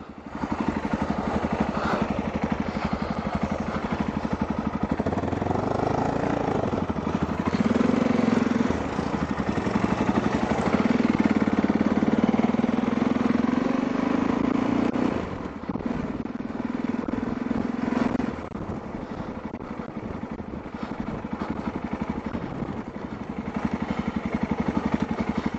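A Yamaha motorcycle idles before setting off on a trip through Mongolia, a steady low rumbling engine note that runs without a break, with slight rises and dips in level and faint background clatter.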